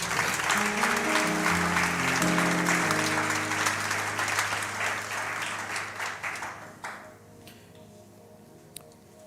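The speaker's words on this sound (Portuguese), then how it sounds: "Aplauda Jesus." Church congregation applauding during a worship service, dense clapping filling the space over sustained music, tapering off toward the end with a few scattered claps.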